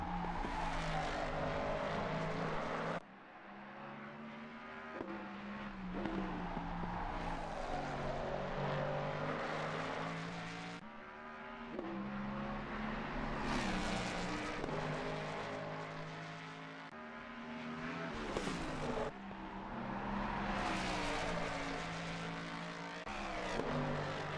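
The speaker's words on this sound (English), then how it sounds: "That car just sounds incredible, riding the curbs extremely hard." A race car in a sim racing game rides hard over the curbs. Its engine roars loudly and steadily through the corners, with gear changes, brief dips and what sound like tire scrubs. No one talks.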